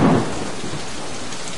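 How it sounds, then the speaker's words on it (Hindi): Heavy rain during a monsoon downpour in Kedarnath, a steady dense hiss with a low rumble of thunder at the start, loud and continuous with no voices. "केदारनाथ में भी बारिश शुरू हो गई।"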